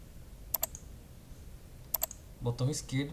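Left mouse button clicks in Blender on a computer, two quick double clicks heard close up with a pause between, then a murmur of voice at the end.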